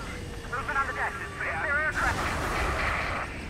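Warship main guns opening fire in the combat flight game Ace Combat 7, a heavy rumbling blast swelling under loud radio chatter and a steady engine drone.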